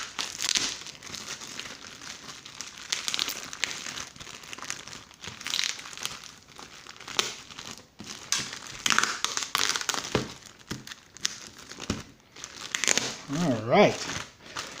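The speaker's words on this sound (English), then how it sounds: "I always just cut it very close to the cardboard because I don't care if the cardboard breaks." A comic book shipping box is cut open close to its cardboard edge, producing steady crinkling, scraping and light tearing sounds near the microphone while someone talks over parts of it.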